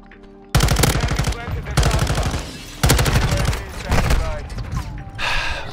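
An M13C rifle fires in a first-person shooter in rapid full-auto bursts, with three or four loud close strings of shots separated by short pauses and a voice speaking faintly between them.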